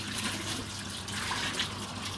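Running water rinses dirty wool fleece in a mill washing system, a steady close wash of flowing, splashing water without a break.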